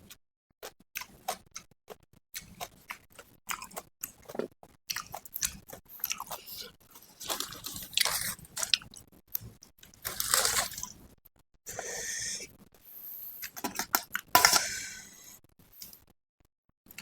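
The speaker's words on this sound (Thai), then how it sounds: "มะเขือกรอบกรอบ" Crisp grilled purple eggplant being bitten and chewed with a mala barbecue meal, giving a steady run of close, sharp crunches and moist chewing clicks with no talking.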